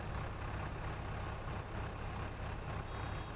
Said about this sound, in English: This little tractor sounds just like a real tractor.